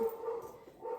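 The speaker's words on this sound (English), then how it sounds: "I'm sorry if you hear that noise in the back. That is my dog." A pet dog playing with a child at home lets out muffled yelping, whimpering barks in the background, faint and continuous over about a second.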